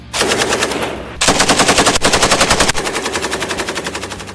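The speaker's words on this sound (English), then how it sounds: "the FN Mag, known to the U.S. military as the M240, is one of the most respected and reliable general-purpose machine guns ever" An FN MAG M240 general-purpose machine gun firing long, loud, rapid bursts with a steady rhythmic cadence and short breaks between strings, close and alone.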